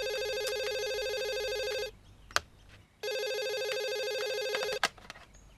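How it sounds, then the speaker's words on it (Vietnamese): A landline telephone rings indoors in two long electronic bursts separated by a pause of about a second, moderately loud with no voices. "Ông, dậy nghe điện thoại giùm tôi một chút."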